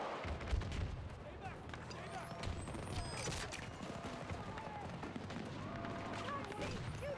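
A grenade blasts in a Battlefield 2042 frontlines match amid a dense battlefield din, with booming detonations and rattling gunfire layered over one another, one heavier thump standing out early.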